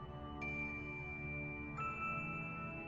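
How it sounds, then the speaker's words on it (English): A two-note chime from a phone text message alert in a video game, sounding twice about a second and a half apart over a steady low musical background. "That is your text tone."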